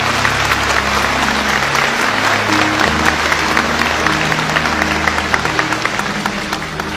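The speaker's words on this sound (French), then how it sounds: "que je vous demande s'il vous plaît d'applaudir pour la circonstance" A church audience gives steady, loud applause for pastor Clément Le Cossec, dense clapping from many hands over a low background tone that thins slightly toward the end.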